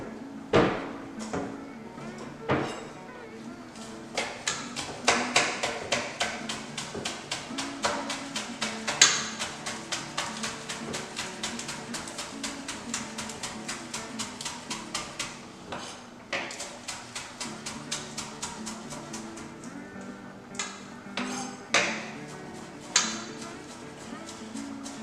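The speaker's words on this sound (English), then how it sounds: "While he's doing that, I'm going to chop the green onions." Green onions being chopped with a knife on a board, a long run of quick, sharp, irregular taps and knocks close by, with occasional louder clacks and background music underneath.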